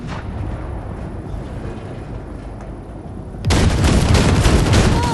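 Heavy gunfire in Cyberpunk 2077 blasts at wrecks, a dense rumbling barrage that jumps abruptly louder and harsher partway through and keeps pounding to the end.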